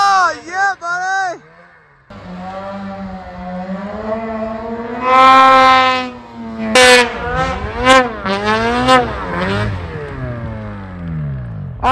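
A snowmobile engine revs hard under throttle on a trip, a loud close whine rising and falling in pitch through repeated surges, with excited shouting over it.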